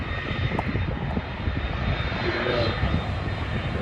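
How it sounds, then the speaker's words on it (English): A KLM Boeing 737-800 takes off at Schiphol airport, its jet engines a steady, fairly distant roar with a thin high whine running through it, holding constant for the full length. "They're gonna let the 737 KLM 800 take off first."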